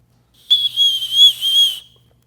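A small whistle built into a multitool is blown once, a shrill, steady, piercing tone lasting over a second with slight wavering, loud and close against silence.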